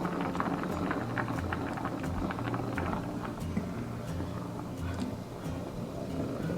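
Porridge simmering under a lid in a clay pot on low heat, giving a steady, close bubbling and burbling with low rumbling pulses throughout and no voices.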